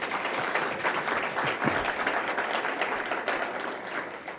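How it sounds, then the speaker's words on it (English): A round of audience applause for panelists and a doctor at a medical fundraising event, dense continuous clapping from a sizeable crowd, steady and loud for the whole stretch. "join me in giving our panelists and Dr. Gately another round of applause"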